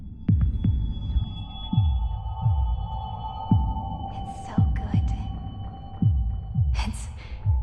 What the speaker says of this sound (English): It's as if I can hear the sound of my heart beating.